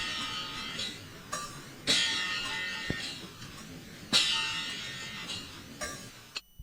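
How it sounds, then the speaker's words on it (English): Halftime drum loop from Phantom's Cremona kit run through DH Flanger, a basic pattern on the ride cymbal with washy, swirling hits recurring every couple of seconds at moderate level, no voices. "So this drum loop sounds like this."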